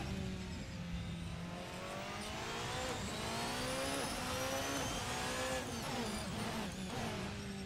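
A Porsche 919 Evo race car lapping the Nordschleife in a racing simulator, its engine whining high and climbing through repeated upshifts, with a continuous, fairly quiet, sweeping pitch.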